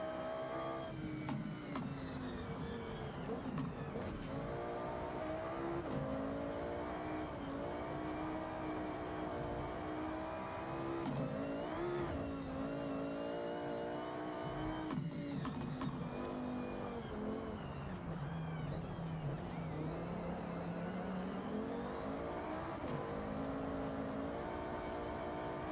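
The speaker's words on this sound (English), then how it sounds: "Racing on the dirt roads through this forest." Engine noise from a car racing along dirt roads through a forest in Forza Horizon 6, a continuous loud drone with shifting revs and gear changes, steady throughout with no talk.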